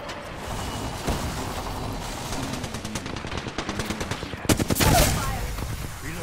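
Rapid automatic gunfire bursts in a sci-fi shooter video game, with repeated sharp shots building toward a louder close burst near the end amid steady game background noise.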